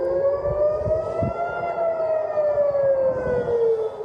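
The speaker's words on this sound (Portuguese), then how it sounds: "O som das sirenes tem ecoado pelos céus no Oriente Médio há 12 dias consecutivos" An air raid siren in the Middle East, around Tel Aviv, wails in one long, steady, slowly bending tone that fills the whole stretch, loud and continuous with a low rumble beneath it and no voices.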